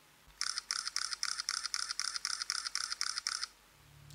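Canon PowerShot SX1 IS firing in continuous shooting mode at about 4 frames per second: a quiet, even run of around a dozen rapid mechanical shutter clicks over three seconds, close to the camera.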